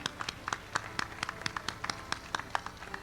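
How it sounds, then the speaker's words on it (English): A small crowd clapping at the 2006 Armed Forces Day parade in Chattanooga, sparse and uneven individual claps in a quick irregular patter, fairly quiet and short, with no talking over it. "How about a big round of applause for Veterans Commissioner John Keys"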